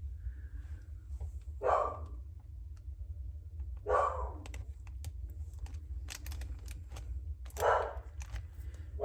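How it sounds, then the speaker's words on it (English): A pet dog barks in three short bursts spaced a couple of seconds apart, heard indoors over a steady low hum, with no talking. "I'm sorry about that dog."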